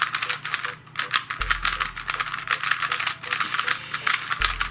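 A lubricated DaYan XiangYun 3x3 speed cube being turned, giving rapid, uneven clicking and clacking close up, like light typing, over a low steady hum.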